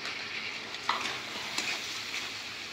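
Rice sizzles and fries in a cooking pot on a village stove, a faint steady hiss with a few soft clinks of stirring, no voices.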